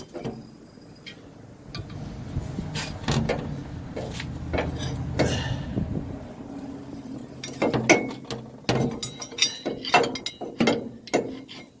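A ratchet tightening a bolt on a helper air bag bracket on a second-generation Dodge truck, rapid clicking bursts close by, speeding up toward the end with metallic clinks between strokes.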